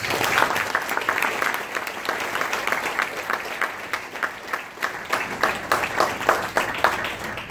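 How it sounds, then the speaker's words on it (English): A loud round of audience applause at a sustainability talk at the Artha Forum in Singapore: dense, sustained clapping from a large crowd, with distinct individual claps growing more prominent and rhythmic toward the end. "he deserves a very loud round of applause."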